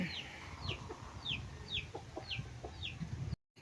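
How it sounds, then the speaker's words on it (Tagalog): Two chickens, a hen and a young pullet, cluck repeatedly in short rising calls about every half second, close by and fairly soft, over a faint background hum. "dalawang manok po yan, inahin dumalaga"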